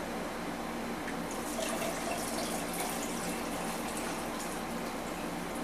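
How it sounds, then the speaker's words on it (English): Water pours steadily into a Godzilla cup, a continuous splashing, bubbling fill heard close and moderately quiet with no talking. "let's get another Godzilla full of water"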